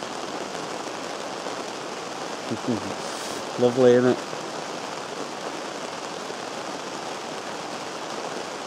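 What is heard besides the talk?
rain at camp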